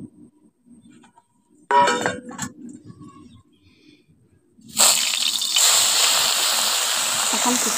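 Sea fish pieces drop into hot oil in a heated wok, setting off a sudden loud burst of sizzling that then holds as a steady frying hiss, after a short stretch of quiet with a brief voice.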